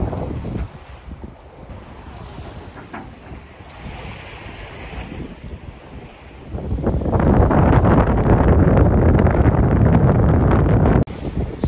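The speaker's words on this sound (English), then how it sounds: "Finally a little bit of wind again." Wind rushes over a sailing boat with surf and water noise, quieter at first and then swelling into a loud, steady roar for most of the clip before dropping briefly near the end.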